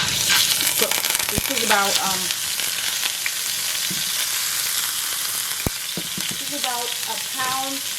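A pound to a pound and a half of ground beef sears in a hot pan, a steady sizzle broken by a few sharp clinks of a utensil, with someone talking over it.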